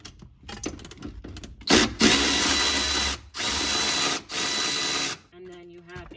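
A wrench breaks loose a 17 mm bolt inside a Mitsubishi Evo 8 during a harness bar install. A loud, close, buzzing power-tool whir runs in three sustained bursts after faint rattling, with no talk.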